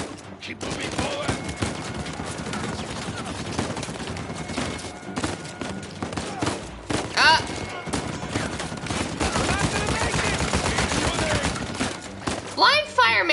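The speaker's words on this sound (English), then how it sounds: "Okay, blind fire. Keep moving forward." Blind-fire gunfire in Uncharted 4, dense rapid shots crackling through a busy battle with a voice talking over the shooting and scattered louder bursts throughout.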